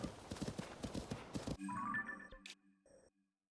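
Horse hooves clip-clop in a quick rhythmic gallop in Zelda: Tears of the Kingdom, then cut off into a brief whinny and a few soft game chimes before fading to silence.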